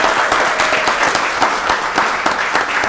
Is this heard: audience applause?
yes